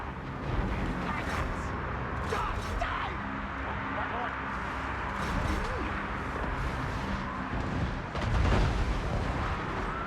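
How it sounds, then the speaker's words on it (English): Skaven mortars of Clan Eshin fire and detonate on a Total War: Warhammer battlefield, a dense rumble of booming blasts and bursts under constant battle din, with a louder thump near the end. "Gotta tell my mortars to stop blowing my own guys up here for a second."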